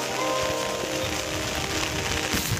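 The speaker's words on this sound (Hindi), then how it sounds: "गैस आप लोग को पानी का आवाज़ सुनाई दे रहा है कि नहीं?" Water on the Simari river, running low beside an overgrown forest bank, gives a soft, continuous wash and hiss, faint and distant, with no talking.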